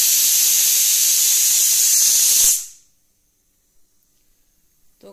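A pressure cooker cooking dal on a gas stove hisses out steam in a loud, steady jet for about two and a half seconds, then cuts off abruptly into near silence with a few faint clicks.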